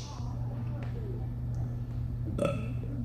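A man belches on request before an audience at a youth event's games segment: one long, loud burp, with a brief rise in force near the end.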